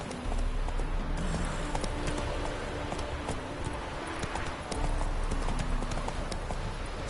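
Steady clip-clop of a horse galloping in The Witcher 3: Wild Hunt, rhythmic hoofbeats running continuously under a faint game soundscape, with no talk.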